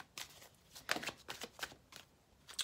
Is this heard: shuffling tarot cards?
yes